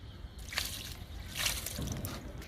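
Liquid fertilizer poured around a chrysanthemum growing in a large tub, a close wet trickle and splash in two short bursts over quiet background.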